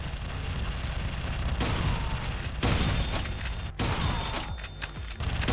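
Shotgun blasts from the video game Organosphere, heavy booming shots fired in quick irregular succession, loud and close, with sharp cracks and rumbling tails overlapping one another.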